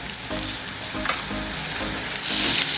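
Garlic, green chilli, onion and capsicum frying in oil, sizzling steadily up close with occasional stirring scrapes, growing slightly louder toward the end.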